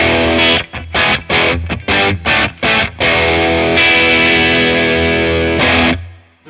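Bad Cat Black Cat 30 amplifier, Mark Sampson modded, pushed into a big open distortion: several short chopped guitar chords, then a long sustained ringing chord that cuts off abruptly, loud and close.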